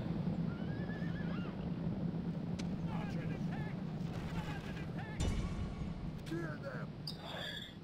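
Horses neigh and whinny amid a steady roar of battle in the strategy game Roma Surrectum, with horse archers in play; several rising whinnies rise over continuous crowd-like din and a sharp impact near the middle.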